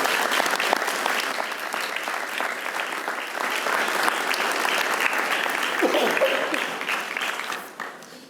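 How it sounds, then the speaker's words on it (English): A round of applause sweeps a school board meeting room for a music educators' association director, dense sustained clapping from a sizable crowd, with a brief murmur of voices underneath before it tapers off near the end. "So let's give Mr. Mize a round of applause for his support."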